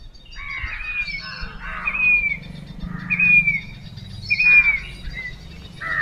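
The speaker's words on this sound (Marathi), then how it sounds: "फक्त पक्ष्यांचा आवाज आहे" Several birds sing and chirp in repeated bursts near Murdeshwar Temple, Kelgaon, bright calls standing out over a low, steady background rumble outdoors.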